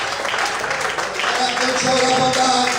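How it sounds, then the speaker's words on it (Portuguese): A church congregation claps during a worship service, a dense wash of applause under a voice speaking over it. "Mais fortes as palmas, aleluia."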